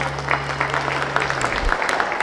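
An audience claps steadily at a small live music show, a dense patter of many hands at moderate loudness with a low hum underneath.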